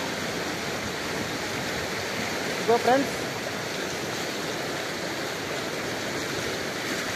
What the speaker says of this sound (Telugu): ఎలా ఉంది చూడండి, ఎలా పోతున్నాయి ఈ నీళ్ళు